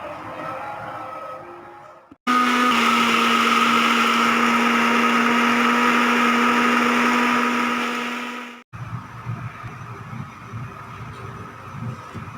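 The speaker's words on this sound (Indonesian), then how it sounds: "Sekarang tinggal blend." A blender grinds spice paste for spicy crab, a loud steady whir running for about six seconds between quieter kitchen sounds, then cutting off abruptly.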